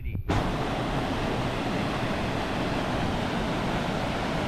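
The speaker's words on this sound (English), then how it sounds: "Look at all the water going through that concrete building" Water surges through a concrete hydroelectric plant in Ulvik, Norway, making a loud, steady, broadband roar that starts almost at once after a brief moment and holds without break.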